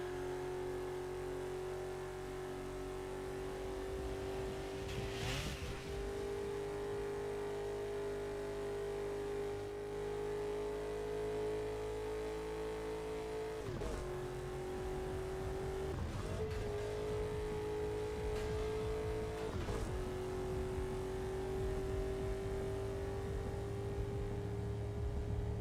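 Car engine in the racing game Burnout Paradise Remastered on Switch, a steady droning tone that rises and dips as the car cruises, with a few brief revs and sharp transients, no talking.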